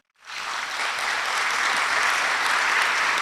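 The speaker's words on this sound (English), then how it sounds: "Can we clap for them?" Steady, dense applause from a conference audience welcoming the Kisii University team at Kabarak University, rising quickly after a brief silence and holding at full strength with no voices on top.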